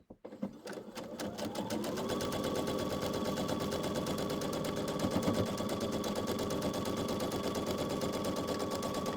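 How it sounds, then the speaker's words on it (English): A sewing machine starts and then runs steadily, stitching a quarter-inch seam on an Ohio Star quilt block, with a fast, even mechanical whir that continues without talking. "I'm taking this right over to the sewing machine."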